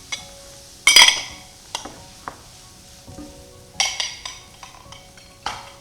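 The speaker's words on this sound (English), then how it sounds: "So I just fold this mixture in with the cornbread stuffing." Cornbread stuffing being folded together with a sautéed mixture for a Thanksgiving dish, giving intermittent scraping and clinking of a utensil against a bowl with short pauses between strokes, close and fairly loud.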